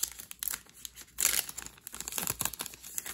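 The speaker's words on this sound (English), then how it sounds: "So we'll just go ahead and open it up." Foil wrapper of a 2020 Topps Archives baseball card pack torn open by hand, a few bursts of crinkly ripping and rustling close up, with brief pauses between tugs.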